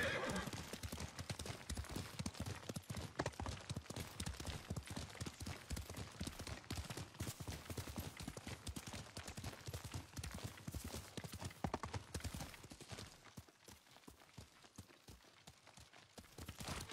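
A horse in the game Ghost of Tsushima trots with rapid, rhythmic clip-clop hoofbeats and a neigh, steady and continuous throughout before thinning slightly near the end, heard without talk.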